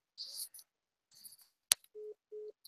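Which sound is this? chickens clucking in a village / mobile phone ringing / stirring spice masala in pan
mobile phone ringing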